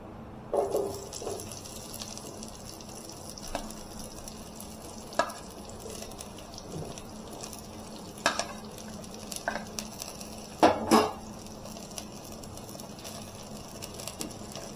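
Onions and tomatoes are stirred together in a frying pan while cooking semiya upma, producing a steady low sizzle with occasional spatula scrapes and a few louder knocks, without any talking.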